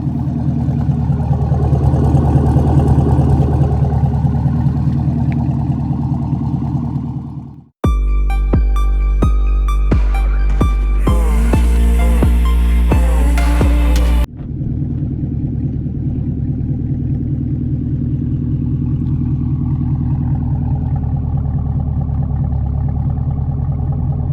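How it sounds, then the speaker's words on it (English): A 2021 Chevrolet Camaro SS with an AWE Track Edition axle-back exhaust rumbles at a steady, deep idle, broken by a short stretch of different sound, then the low drone resumes and holds. "Here is the 4-month review of the AWE Track Edition exhaust axle back on the 2021 Camaro SS."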